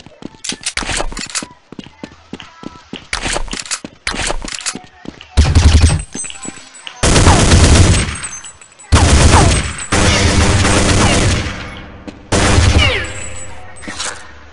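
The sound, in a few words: gunfire in the video game Counter-Strike 1.6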